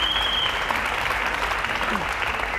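A television studio audience claps loudly and steadily, a continuous dense applause that runs unbroken and close.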